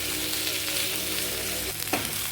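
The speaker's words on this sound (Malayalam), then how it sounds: "പച്ചമുളക് ഇട്ടു സവാളയും കൂടെ ഇട്ട് നന്നായിട്ട് വഴറ്റുക" Crushed ginger, garlic, green chilli and onion sautéing in a pan, a loud continuous close sizzle with a brief scrape of stirring near the end.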